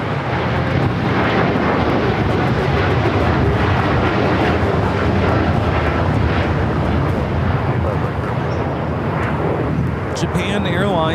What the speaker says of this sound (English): Japan Airlines Flight 69 taking off to Osaka on the 787-9 Dreamliner.